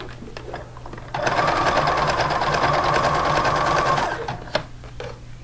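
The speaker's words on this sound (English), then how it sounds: "now I'm going to turn this under and do a blanket stitch in a peach color thread" A sewing machine runs a blanket stitch in peach thread around the turned-under neckline of a knit t-shirt, whirring steadily for about three seconds at close range, with quiet handling before and after.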